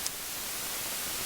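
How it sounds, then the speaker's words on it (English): Steady hiss of white noise from a Hexinverter VCNO synthesizer module, built on a clocked shift register, fills the short stretch evenly and loudly with no variation after a tiny click at the start. "it can sound essentially exactly like white noise"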